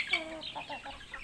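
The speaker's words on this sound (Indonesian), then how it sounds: "Dan ini adalah beberapa anak-anak ayam yang" Young chicks being raised at home peep and cluck softly in a short flurry of small chirps, faint and close, with no talk over them.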